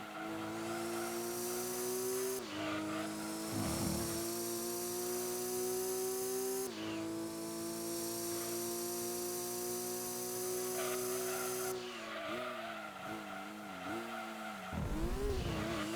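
Race cars in the Gran Turismo 2 video game: a continuous loud engine whine rising through gears with abrupt pitch drops at shifts, and wavering tire squeal near the end, with no talking.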